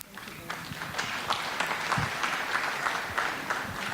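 An audience applauds steadily at a live environment day event, many hands clapping in a dense patter that builds slightly and holds, heard from a moderate distance.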